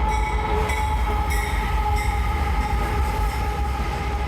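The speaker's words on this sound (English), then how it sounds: "I thought I would get out of the basement and come do a bit of train spotting, so I'm down at the CPKC Galt sub trying to catch some freight action" A freight train passes close by on the CPKC Galt subdivision, a loud steady rumble with metallic wheel squeal and periodic clatter from the rail cars, no voices.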